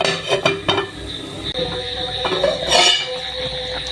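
A metal lid goes onto a pan of simmering sole fish curry, with sharp clinks and a scraping clatter of cookware, the loudest rattle near the end, close by in a quiet kitchen.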